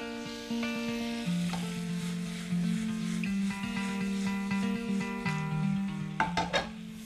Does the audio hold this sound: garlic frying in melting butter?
yes